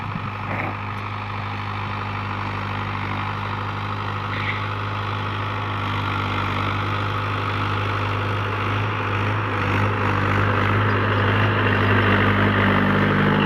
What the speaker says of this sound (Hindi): आज सुबह से लगातार ट्रैक्टर चल रहा है, ट्रैक्टर गर्म हो रहा है पूरा